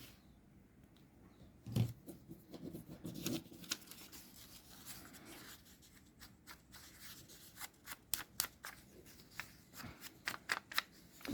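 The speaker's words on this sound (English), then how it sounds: "I am inking the edges as per usual." Paper page edges being inked on a handmade fairy junk journal, heard as quiet, soft rubbing and dabbing strokes. Occasional sharper taps and scrapes stand out from the faint background.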